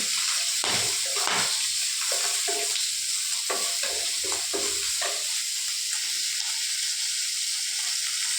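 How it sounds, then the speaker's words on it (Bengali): Bhola fish sizzling in a pan with clinks and scrapes of stirring, a steady hiss broken by irregular clattering movements, close up. "দেখো এখানে আজকে আমি ভোলা মাছ ভাজা করছি"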